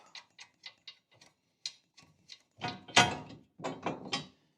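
Bolts being run in with a ratchet on the receiver mount of a KFI snowplow for a Kioti UTV: a series of short, crisp clicking bursts, close and fairly loud, coming in quick irregular clusters with brief pauses between them.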